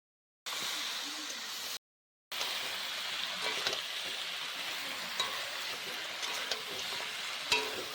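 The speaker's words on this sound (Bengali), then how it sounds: "ছোট ছোট মশলা দিয়ে ফ্রাই হবো।" Chicken skin frying with small spices in a pan, a steady close sizzle broken by a short silent gap, with scattered crackles and stirring clicks.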